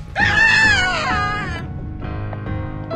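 A woman's shrill scream rises and bends in pitch for about a second in the Evil Nun horror video game, then gives way to a lower rumbling game ambience, loud and close with no talking.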